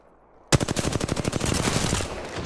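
Automatic gunfire in the Apex Legends video game erupts suddenly after quiet, a rapid, loud, evenly spaced burst of shots lasting well over a second before blurring into a sustained roar.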